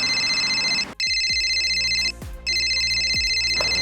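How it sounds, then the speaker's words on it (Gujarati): A mobile phone ringtone plays a bright repeating melodic tone close by, briefly interrupted twice by short clicks and thumps before resuming. "આ મારો ફોન"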